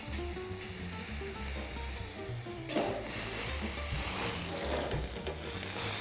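Brandy poured into a hot frying pan with mushrooms hisses and sizzles steadily up close, a continuous crackling fry with a slight surge partway through and no talk.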